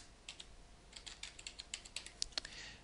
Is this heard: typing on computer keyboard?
yes